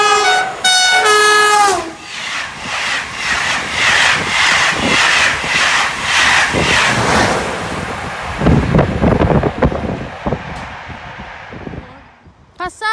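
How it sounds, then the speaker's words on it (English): A train passes at speed close by at Staffelfelden, France, opening with a loud, sustained horn blast in the first two seconds, followed by a roaring, rattling rush of wagons and wind buffeting that fades near the end. "Passage d'un train."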